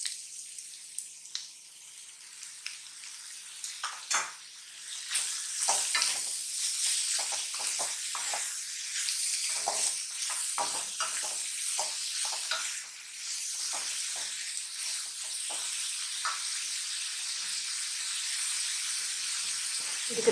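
Mushrooms frying in a pan give a soft, close sizzle and hiss that swells after a few seconds, with scattered crackles and pops throughout.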